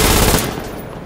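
Rapid MG42 machine gun bursts in a co-op shooter game, loud and dense at first, then fading into a quieter trailing rattle within about a second.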